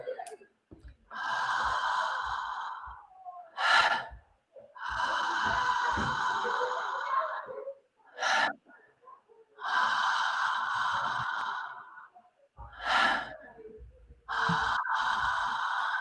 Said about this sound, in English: Long on the inhale and a short, relaxed exhale.